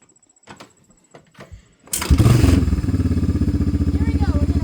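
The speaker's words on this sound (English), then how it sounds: "We're gonna start our quad" A 1980s Honda FourTrax 300 2x4 quad with a flat tire cranks and fires up after some quiet voices and handling noises, then settles into a loud, steady, rhythmic idle close by.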